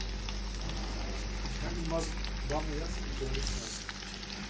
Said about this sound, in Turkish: güzelce kavurduktan sonra bunlar arkadaşlar üzerine suda beklettiğiz bamyaları dökün